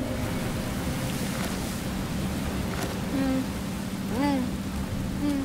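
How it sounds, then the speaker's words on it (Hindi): Rain and sea waves in a storm make a steady, dense wash of noise, with a low rumble underneath. Several short rising and falling tones cut through it near the end. "तूफान बहुत तेजी से आ रहा है।"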